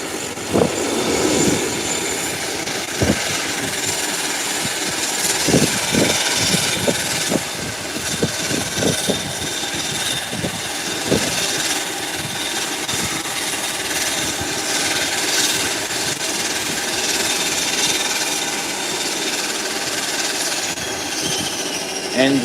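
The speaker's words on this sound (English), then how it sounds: "Engines are now shut down" Airliner jet engines wind down at the gate after arrival, a broad steady roar and whine that holds for a long stretch, with some low rumbles and knocks early on and no voices.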